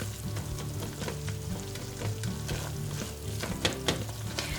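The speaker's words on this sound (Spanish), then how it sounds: "Y dejamos que se haga durante unos 2 minutos más o menos. Removiendo siempre, eso sí." Vegan béchamel sauce cooking in a pan as it is stirred continuously, a low bubbling sizzle with repeated soft scraping strokes, close and steady with no talking.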